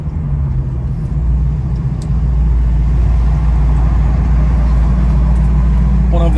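A 1966 Ford Mustang resto-mod cruises along a main road, its engine giving off a loud, steady low rumble with road noise that holds close and continuous throughout.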